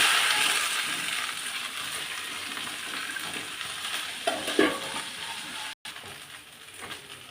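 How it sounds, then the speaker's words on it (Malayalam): Chopped okra dropped into hot oil with mustard seeds and cumin gives a broad, steady hiss of frying, close and fairly loud, with a brief clatter and a short cut near the end, no voices. "നമുക്ക് വെണ്ടയ്ക്ക അരിഞ്ഞതിട്ട് കൊടുക്കാം."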